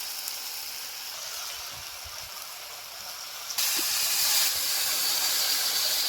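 Water poured into a frying fish-head vegetable curry brings a sudden jump from a soft hiss to a louder, bright steaming sizzle that holds steady, with no speech.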